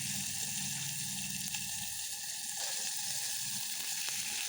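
A tempering of mustard seeds, tomato and chili sizzles in hot oil with a constant, close, bright crackle and no voices.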